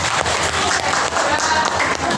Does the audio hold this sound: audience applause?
yes